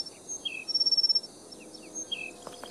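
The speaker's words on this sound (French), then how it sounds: "Vous sauriez que nous avons affaire à un paradisier bleu" A blue bird of paradise calls in a Sherlock Holmes video game, a few clear, high whistled and chirping notes over a quiet ambient background, with a short rapid burst of pulses early on.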